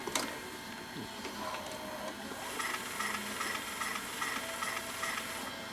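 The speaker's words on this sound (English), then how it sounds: "Let's rewind the tape first of all." A VHS tape rewinding inside a Sony SVO2000 video recorder with a snapped tape stabilizer and full erase head gives a faint, rough mechanical whirring with ticking and rattling textures throughout.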